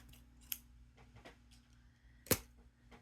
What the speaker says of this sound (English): I'm going to cut that off.